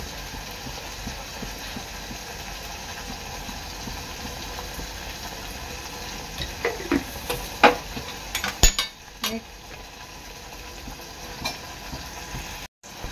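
Ground masala paste is stirred into hot oil in a pan for a Maharashtrian pomfret curry, with a steady soft sizzle and a cluster of scraping spoon knocks midway.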